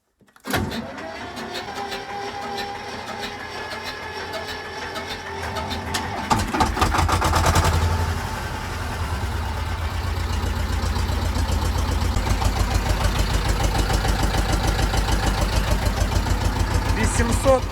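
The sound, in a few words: tractor engine starting and idling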